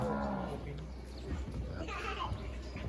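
Cattle moo at a student cow-leading contest with cattle tents nearby, low lowing calls mixed into busy outdoor crowd noise, with an adult talking and children's voices around.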